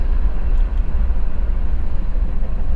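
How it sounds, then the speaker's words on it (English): A train roars past close by a parking lot at night, a loud, steady low rumble with no break and no talk. "there's a train roaring right past us"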